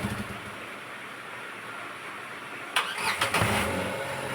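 A Renault Kwid engine is switched off, then cranked and restarted: a low steady idle gives way to quiet, and a loud churning start-up bursts in near the end, with no talk.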